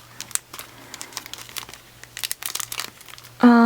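A bubble-wrapped shipping envelope holding fan-meeting merchandise being handled up close, with irregular crinkling and rustling bursts, then a brief louder rustle at the end.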